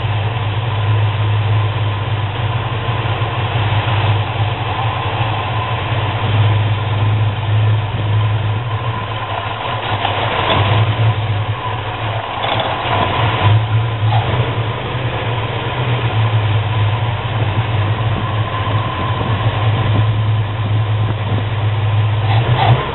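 A 318 V8 in a Roadrunner fitted with a Hughes whiplash cam idles steadily and loudly for the whole stretch, a deep continuous rumble with a slightly lumpy pulse and no talking.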